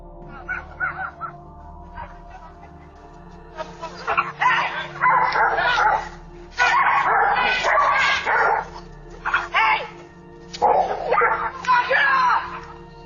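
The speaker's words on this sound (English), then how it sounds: "a woman is calmly walking her dog when two other dogs suddenly rush out and attack." Two dogs rushing out and attacking a dog on a walk, caught outdoors by a doorbell camera: bursts of loud, frantic barking and snarling in clustered volleys, mixed with shrill cries.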